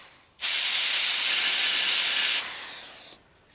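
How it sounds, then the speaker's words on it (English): Compressed air blasting through the crankcase ventilation hole of a John Deere engine, forcing out metal chips and shavings from drilling and tapping: one loud, steady hiss of about three seconds that drops a little near the end and stops abruptly. "air and let the air blow out through here all the chips all the uh, metal shavings"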